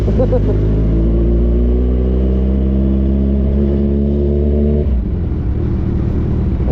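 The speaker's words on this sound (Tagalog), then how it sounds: "masyadong maingay yung motor mo, huwag mo nalang bibiritin" A Kawasaki Z1000 R motorcycle engine idles loudly and steadily, its pitch rising as it revs, then drops off abruptly near the end.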